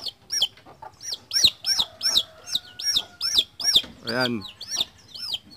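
A native chicken chick held in the hand cheeps repeatedly in loud, close, rhythmic peeps, with a brief spoken word partway through.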